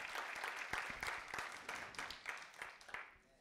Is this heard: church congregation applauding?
yes